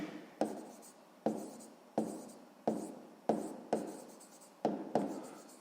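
A pen writes on paper while working a sixth-grade maths exercise, giving close, rhythmic scratching strokes in regular bursts with short pauses between them and no voices.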